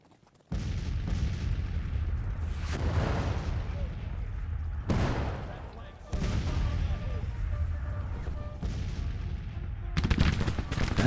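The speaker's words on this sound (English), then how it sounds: "Just want to hear more firing down here." Gunfire in the Civil War strategy game Grand Tactician: The Civil War, with a steady din of distant musketry and heavy booming volleys that swell and surge at several points, continuing throughout without pause.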